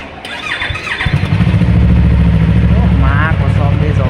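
A Yamaha R15M motorcycle engine starts up and settles into a loud, steady close-up rumble, with a high squeal near the start and a brief voice in the background.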